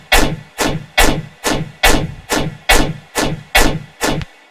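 An unprocessed synth preset from an Odd Profit sample pack plays nine evenly spaced, identical loud bursts, each with a sharp bright attack and a short buzzy decay, in a steady rhythm with no other sound.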